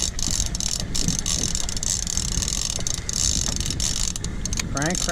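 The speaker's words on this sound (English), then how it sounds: "I'm cranking" A fishing reel is cranked on a hooked shark aboard a boat off Montauk, a steady rapid ratcheting grind under wind buffeting the microphone, with a short rising whine near the end.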